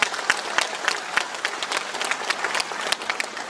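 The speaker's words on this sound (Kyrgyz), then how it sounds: "кол чаап койсоңуздар деп турабыз." A hall full of people at a Kyrgyz community gathering in Moscow applauds, sustained loud clapping with individual sharp claps standing out, no talk.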